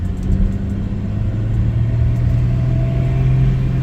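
A Mercedes W116 280SE sedan accelerates on an open road, its engine giving a loud, steady, close rumble that builds gradually with no voices.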